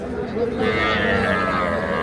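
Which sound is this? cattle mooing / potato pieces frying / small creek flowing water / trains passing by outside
cattle mooing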